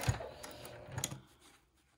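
A sewing machine stitching a zipper shield on trousers, giving short faint mechanical whirs and clicks, two brief bursts that fade into quiet.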